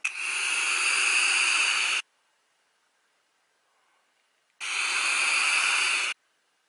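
Two long airy draws through a Coolfire Ultra TC150 vape mod with a Scion tank set to 100 watts, airflow fully open, each a loud close hiss lasting about two seconds, separated by near silence.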